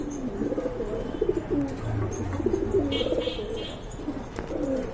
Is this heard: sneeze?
no